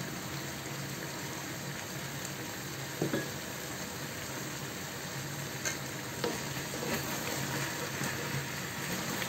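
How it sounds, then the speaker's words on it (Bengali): Chicken karahi sizzles in a pan as it is stirred, a steady frying hiss with occasional soft scraping knocks from the utensil, close and continuous. "ভালোভাবে আমাকে নাড়া দিয়ে নিতে হবে। বারবার নাড়া দিতে হবে।"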